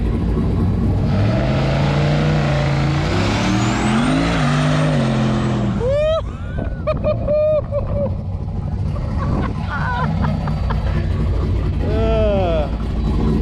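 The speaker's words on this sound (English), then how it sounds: "Brake boost it a little bit." A turbocharged 1987 Aero Coupe engine revving hard while brake boosting in third gear, loud and close, the rising and falling drone climbing then dropping off into sharp turbo chirps and whooshes, with people talking over it.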